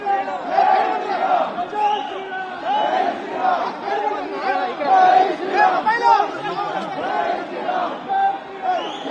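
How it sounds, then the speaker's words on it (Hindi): A large, dense crowd gathered to welcome sculptor Arun Yogiraj chatters and shouts together, a loud, continuous wall of many voices with cheering cries rising throughout. "इतनी भीड़ जो है उमड़ी हुई है।"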